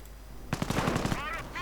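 Rapid bursts of machine gun fire in the WWII strategy game Men of War, a steady rattling volley of evenly spaced shots lasting about a second, loud and close, followed by a short ricochet-like whine.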